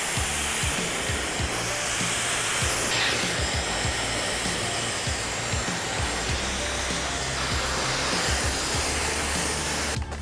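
A hair dryer blows steadily and loudly throughout, a continuous broadband whoosh with no pauses.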